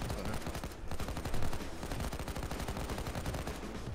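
Rapid, continuous automatic gunfire from the video game Payday 2 during a heist, dense and loud throughout with no pauses.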